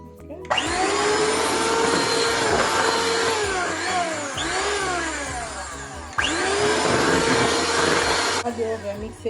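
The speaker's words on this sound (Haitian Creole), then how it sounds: "Et puis blender cheese." An electric blender whirs loudly while mixing cream cheese for a New York cheesecake, running in two long steady bursts with a brief dip between them and a short tail as it stops.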